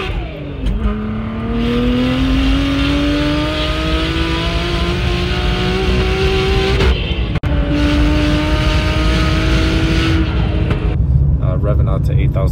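A BMW 335xi with water/meth injection is revved hard to 8,000 RPM. Its engine note climbs loudly in two long rising pulls, each followed by a drop, close up and with no talk.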